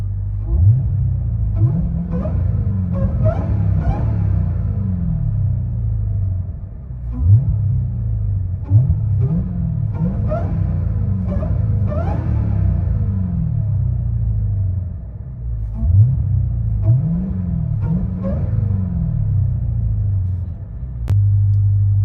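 From inside the cabin of a 2023 Dodge Charger Hellcat with a Valvetronic muffler and its exhaust valves closed, a deep, muffled engine rumble rises and falls through repeated revs and gear changes, steady and moderately loud.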